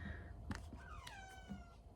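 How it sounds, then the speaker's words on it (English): A pet cat, shut away from a table it likes to jump on, meows insistently from nearby: a short cry followed by a longer drawn-out, falling meow, over a low background hum. "now he is meowing and wanting to come out"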